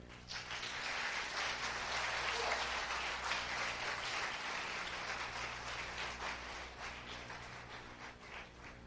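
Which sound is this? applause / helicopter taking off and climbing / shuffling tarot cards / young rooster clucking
applause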